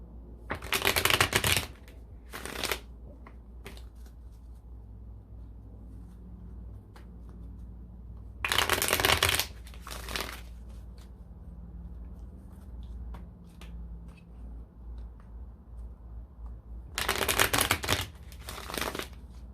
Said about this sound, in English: Go ahead and get this deck shuffled a little bit here.